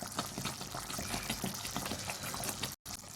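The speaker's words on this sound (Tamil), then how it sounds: "இப்போ திருப்பி கொஞ்சம் நல்லெண்ணெய் சேர்த்துக்கலாம்." Sesame oil pours into a pan of thick, cooking ajwain kali, giving a continuous bubbling, liquid sputter that runs close and steady before a sudden short break near the end; no talking.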